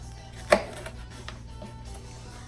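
A single crisp knife cut through a jalapeño on a cutting board, a short sharp knock standing out once against a quiet kitchen background.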